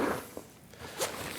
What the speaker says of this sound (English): these really nice pull tie zips. So let's go ahead and open it up here.